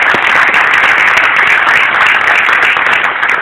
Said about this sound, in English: Let's give our Congressman another round of applause.